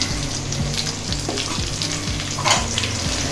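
Beans and carrots hit a hot pan for egg noodles, giving a loud, continuous frying hiss with crackles and a few scraping stirs, close up.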